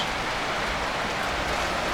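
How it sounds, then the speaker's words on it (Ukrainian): Steady rain pattering on a garden and tomato plants, a continuous close hiss of drops landing on leaves and surfaces with no voices over it. "Опять пускається дощ."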